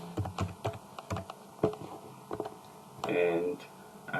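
Computer keyboard keys tapped in a quick, uneven run of sharp clicks, close and fairly quiet, with a short burst of speech in the middle.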